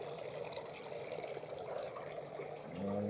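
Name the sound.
water dripping in DIY pond filter tank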